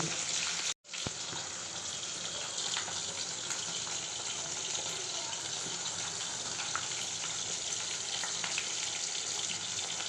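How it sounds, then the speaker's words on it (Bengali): Rohu fish frying in oil in a kadai, a steady loud sizzle and spatter that continues without pause after a brief break near the start. "আর এদিকে মাছ ভাজা চলছে মাছটাকে এবার উল্টে দেবো আজকে আমি কড়াইতেই ভাজলাম"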